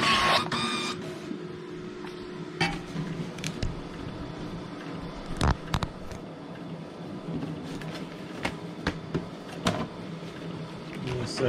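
Epson ColorWorks C6500Au label printer running BOPP sticker stock, with faint mechanical whirring and intermittent sharp clicks and feed clunks at a quiet, close level over low room hum.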